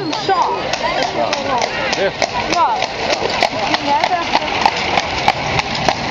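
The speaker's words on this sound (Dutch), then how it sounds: "Fjord paarden, ja, die doen ook regelmatig mee in dit soort ringrijderijen" Fjord horses' hooves clip-clop steadily at a ring-riding event in Earnewâld, a run of close, regular strikes under constant crowd chatter and talk.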